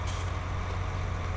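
A John Deere 8RX 410 tractor in a video game rumbles with a steady, close engine drone and a low hum, with no pauses.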